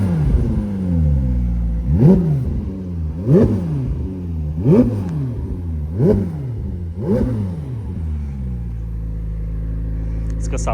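A 2025 McLaren 750S sports car engine blipped through five sharp, evenly spaced revs that rise and fall over a loud, rumbling idle close by, with a voice talking underneath.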